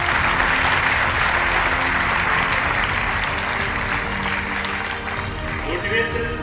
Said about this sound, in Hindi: जोरदार तालियां डॉक्टर साहब के